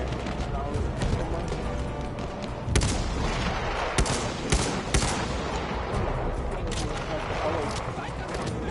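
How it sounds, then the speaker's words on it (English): Dense gunfire fills a Battlefield 1 battle, a near-constant rattle of rifles and machine guns with heavier booms breaking through now and then, while voices talk over the din. "They're shooting at me."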